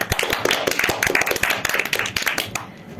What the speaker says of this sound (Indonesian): Berikan aplaus dulu yuk